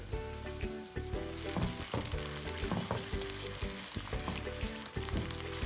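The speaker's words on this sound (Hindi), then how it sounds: "ये प्याज को ब्राउन करना है" Onions for Lahori anda channa brown in a pan, sizzling steadily up close while a spoon scrapes and taps against the pan at intervals, with no one speaking.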